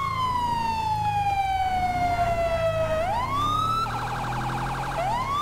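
A loud police siren in the video game GTA 5 wails continuously, a long falling tone that sweeps back up, then switches briefly to a rapid yelp pattern before wailing again.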